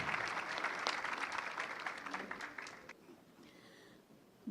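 Applause from the audience at the opening lecture of a conference honouring Edgar Morin, a steady round of clapping from a mid-sized crowd that fades out after about three seconds, leaving quiet room tone.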